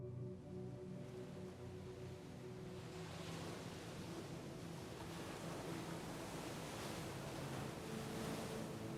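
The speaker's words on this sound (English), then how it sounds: "Hear the sound of the waves." Ocean waves wash steadily onto a shore on a sunny day, a continuous broadband surf roar with gentle swells and no gaps, close and fairly loud with a faint wind-like hiss throughout.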